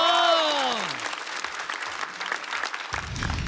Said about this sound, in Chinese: 热烈的掌声有请刘仁成。